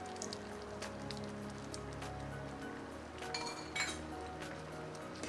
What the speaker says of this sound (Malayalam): നന്നായിട്ട് മിക്സ് ചെയ്യുക.